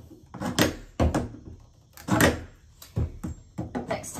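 An old nailed-on interior door being pried loose and handled in a shack under renovation, giving a series of loud wooden thunks and knocks, roughly one each second, with faint scraping between the impacts.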